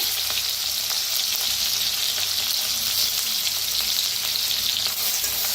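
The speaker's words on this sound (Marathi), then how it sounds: "आता तेल चांगलं गरम झालेलं आहे, वाटण टाकूया जे आपण हिरवी मिरची, लसूण, जिरं चेचलेलं।" Paste of crushed green chili, garlic and cumin dropped into hot oil, sizzling loud and steady with a bright hissing crackle close up throughout, while greens are being prepared.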